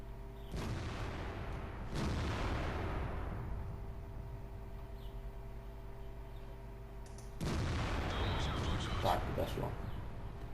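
Two heavy booming tank cannon shots in World of Tanks, each followed by a long rumbling decay over a steady engine drone.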